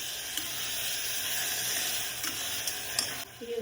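Steady, close sizzling of eggplant frying in a pan, a continuous hiss with occasional soft clinks of stirring.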